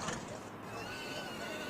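A horse whinnies at a busy horse market in Weishan, China, a drawn-out neigh rising over the noisy crowd and ambient market bustle, with hoof clops and voices mixed in the background.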